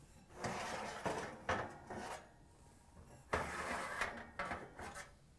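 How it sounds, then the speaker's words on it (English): Metal oven racks sliding out of a GE electric oven, a series of close scraping, rattling clanks in several bursts with short pauses between. "Remove both racks."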